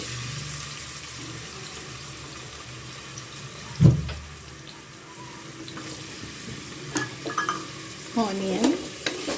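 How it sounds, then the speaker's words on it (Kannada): Chilies, herbs and onion fry in hot oil for chicken donne biryani, a steady close sizzle with occasional stirring scrapes and clinks of a spoon against the pan. "ಇದನ್ನೆಲ್ಲ ಎಣ್ಣೆಲಿ ಚೆನ್ನಾಗಿ ಫ್ರೈ ಮಾಡಿ ಇದ್ರ ಜೊತೆಗೆ ಆನಿಯನ್ನ ಚೆನ್ನಾಗಿ ಫ್ರೈ ಮಾಡಿ"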